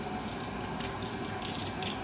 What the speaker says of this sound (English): What I do is I run them under the water